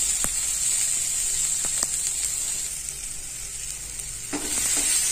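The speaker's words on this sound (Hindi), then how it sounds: "अब मैं इसमें डालूंगी गाजर और शिमला मिर्च जो हमने काट के रखा था इसको भी हम थोड़ी देर के लिए एक से दो मिनट अच्छे से फ्राई करेंगे" Carrot and capsicum stir-fry in a hot pan, a bright steady sizzle with occasional sharp spatula knocks and scrapes, one burst of stirring near the end.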